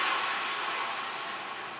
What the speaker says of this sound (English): blow all that air out